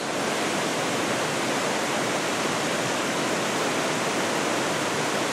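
Yellow Creek Falls pours down in a dense, constant roar of tumbling water, broadband and unbroken throughout, with no voices over it.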